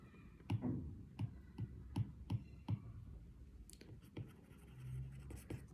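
Writing on a board during a genetics lesson makes a quiet series of tapping, scratchy strokes in an irregular rhythm, each a short click or scrape against near silence.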